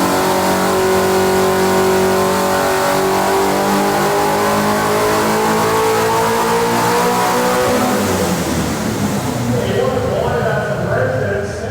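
A car engine revs hard and continuously in a dyno cell at the Summernats car festival, loud and close, with the pitch climbing and falling as it holds high revs.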